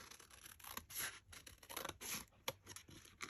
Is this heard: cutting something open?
yes